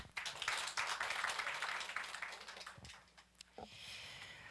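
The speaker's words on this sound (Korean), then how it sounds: "큰 박수 부탁드립니다" Audience applause at an air quality management symposium in a hall, a brief burst of clapping that thins out after a few seconds.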